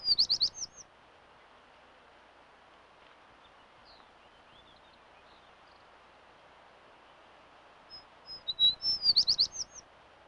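Short bursts of rapid trilled chirping from a chipping sparrow, one at the start and another near the end, with quiet open-air stillness in between.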